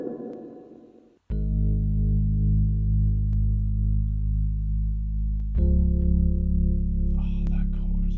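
A song chorus with extra percussion layered in: a sustained harmonic chord bed shifting up after a few seconds, with percussive hits and a shaker-like rustle near the end, no talking.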